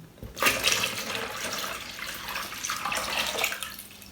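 Water is poured into a homemade ayran churning machine, a close continuous gushing splash that starts suddenly, then settles into a steady flow with slight surges, no voices present.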